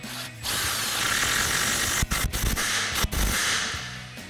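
Impact wrench with a 14 mm swivel socket running down factory exhaust flange bolts on a Toyota Tundra with a Borla touring dual side-exit exhaust, a steady close mechanical whir punctuated by two sharp hammering bursts near the end.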